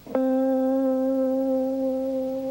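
A single blues guitar note is plucked and held, ringing clearly for over two seconds with a slow, even vibrato gently bending the pitch up and down as it sustains and slowly fades, with no voices.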